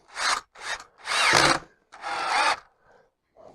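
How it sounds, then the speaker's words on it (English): A power drill with a screwdriver bit drives a screw into a wooden door frame in four short whirring bursts. The bursts are close and fairly loud, separated by brief pauses. "Put the screwdriver bit into the drill."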